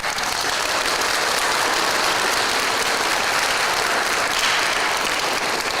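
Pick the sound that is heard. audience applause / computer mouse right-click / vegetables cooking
audience applause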